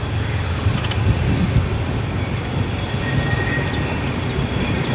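Low steady rumble of a passenger train rolling through a station nearby, with a faint high squeal and clatter over the continuous drone.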